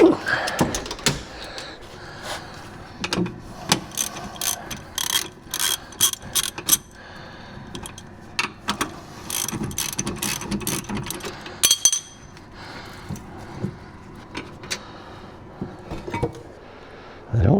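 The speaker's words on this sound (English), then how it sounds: "So I'll just use this old torque wrench for a breaker bar because it doesn't work no more." An old, broken torque wrench is used as a breaker bar on a sticky brake caliper, giving repeated close metallic ratcheting clicks in irregular bursts, with clanks of tools and parts between them.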